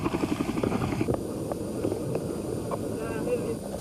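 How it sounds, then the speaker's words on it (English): Huge Chinook helicopters arriving over jungle, a steady low rotor drone with rhythmic thumping throughout, mixed under a voice talking. "The huge Chinook helicopters arrived by mid-morning"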